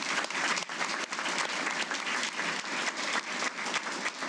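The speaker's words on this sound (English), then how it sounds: "Let's give him one more round of applause" Dense, sustained applause from a ceremony audience at a Hall of Fame event, a steady wash of many hands clapping at full strength for over four seconds, with no voices on top.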